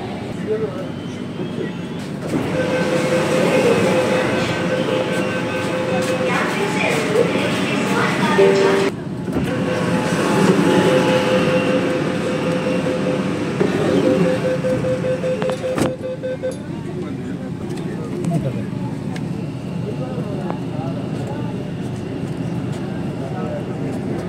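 A Kolkata Metro train at Howrah station beneath the Ganges rumbles and hums loudly under an automated platform announcement, with a sustained electric motor tone and clattering carriage noise that fades toward the end.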